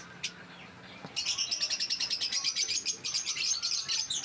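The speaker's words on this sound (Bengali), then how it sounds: "দুটো পাখির বাচ্চা আছে, লাভবার্ড পাখি।" Dense, rapid high-pitched chirping from two lovebird chicks in a box, close by and continuous after a brief quiet start.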